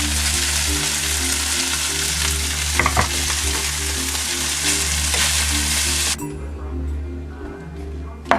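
Long grain vegetarian rice stirred in a hot frying pan gives a loud, steady sizzle and hiss with scraping stir sounds, then cuts to a quieter sizzle near the end, with faint talk underneath.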